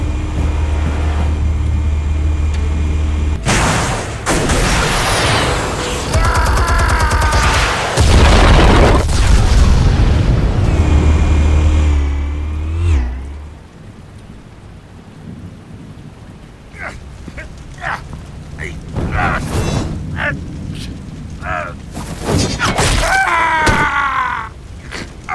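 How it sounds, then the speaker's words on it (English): Explosives fired in a Batman game, heard as a series of heavy booming blasts and rumbling over roughly the first half, then fading into scattered crashes and debris with voice lines between. "Explosives armed. Fire when ready."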